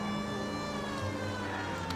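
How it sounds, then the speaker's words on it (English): A steady wailing ambulance siren sounds in the video game L.A. Noire, a sustained harmonic tone holding over faint traffic noise, with the pitch shifting slightly partway through. "Hey, ambulance."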